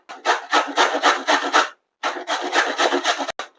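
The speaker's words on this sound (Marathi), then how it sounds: "मी बारीक चाळणीने किसून घेतले, बघू शकता." Radish is rubbed on a fine grater in quick, even rasping strokes, about a dozen in two bursts split by a short pause, close and clear with no voices.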